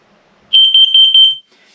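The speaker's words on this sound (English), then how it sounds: "you push the little button, and both the red and green should flash, and you'll hear the chirp, which is the first alarm" A carbon monoxide alarm under a button test gives a fast run of eight sharp, piercing chirps, close and loud, then falls silent.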